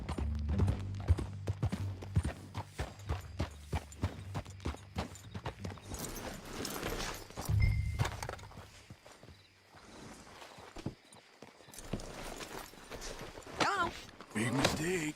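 Horse hooves clip-clop steadily in Red Dead Redemption 2 as a rider moves along, a rhythmic trot under spoken dialogue and voices calling out.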